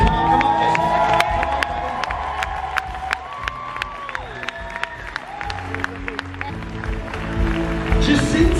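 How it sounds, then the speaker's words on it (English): A church congregation at a baptism cheers, whoops and claps loudly throughout, with shouts and sharp hand claps over a busy, crowded roar. "we're not going to sit all quietly, we're going to cheer, we're going to celebrate with these people"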